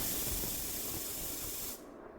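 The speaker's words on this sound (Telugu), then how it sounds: "ఇప్పుడు కుక్కర్లో ఉన్న ఆవిరంతా పోయిన తర్వాత" Steam hisses steadily out of a pressure cooker after a curry has cooked through four whistles, then cuts off sharply near the end and leaves a quiet background.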